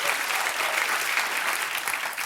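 A studio audience at a TV talk show claps enthusiastically, a dense, steady wash of many hands sustained loudly throughout with no voices over it.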